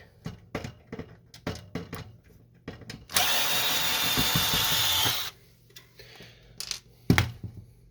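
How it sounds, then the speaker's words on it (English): A power screwdriver whirs steadily for about two seconds while backing out screws from the top plastic of an HP LaserJet 1020 printer, with scattered clicks and handling knocks before and after. "So we're going to unscrew these two screws right here."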